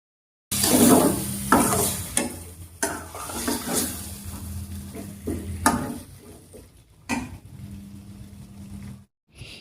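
Mutton cooking in a pot for a country-style sambar, with water added and the meat stirred, giving bursts of close sizzling and scraping in an uneven rhythm, with several sharp clatters against the pan.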